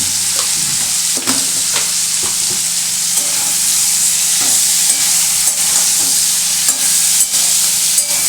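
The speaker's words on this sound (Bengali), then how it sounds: "এটাকে একটু ভালো করে নাড়াচাড়া করব" Vegetables with Kashmiri chili powder and a pinch of sugar are stirred in a hot pan, a loud, steady close sizzle with repeated soft scrapes and knocks of the spoon throughout.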